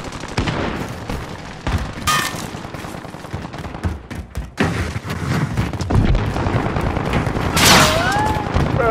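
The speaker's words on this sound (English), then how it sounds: "Receiving hostile fire." Gunfire in Call of Duty Modern Warfare Warzone team deathmatch, loud dense bursts of automatic rifle fire with sharp single shots and booming impacts, close and continuous, with brief voice chatter underneath.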